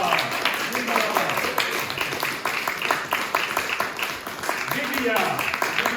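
An audience claps in warm applause at a live stage event, a dense, continuous patter of many hands close by, while a voice speaks over it.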